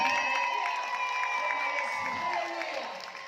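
A crowd cheers and applauds at a church gathering in Kenya, a sustained mix of clapping and raised voices that fades slightly toward the end.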